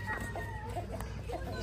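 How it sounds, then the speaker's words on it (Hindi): Rooster on a village farm crowing and clucking in short repeated calls, moderately close, over a steady low background hum with no talk. "मुस्तफ़ा के मुर्गा जो है ना तैबा ने निकाल दिया"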